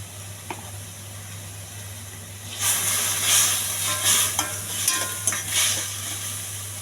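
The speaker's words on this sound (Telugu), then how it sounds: "కరివేపాకు, ఉల్లిపాయలు ఇవన్నీ బాగా దోరగా వేస్తానండి" Curry leaves and onions hit hot oil in a pan for a peas fry, a sudden loud hissing sizzle that flares up and crackles on, following a quieter low hum.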